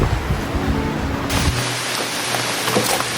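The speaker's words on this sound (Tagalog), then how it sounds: "Sarap matulog na naririnig mo yung agos ng ilog." A river flows steadily beside a campsite, a continuous broadband rushing wash, loud and close, with no voices.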